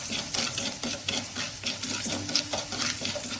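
Coarse rock salt is dry-roasted in an oil-free pan, giving a steady gritty scraping and rattling as it is stirred, with soft rhythmic strokes and no voices.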